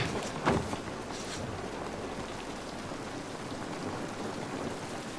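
Steady rain pours in The Last of Us Part I as a dense, even hiss, with a brief louder splash or rumble near the start and no talking.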